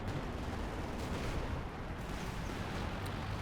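Dense, continuous strafing gunfire and distant rumbling blasts from a Company of Heroes 2 battle, a steady loud barrage that fills the whole stretch without pause.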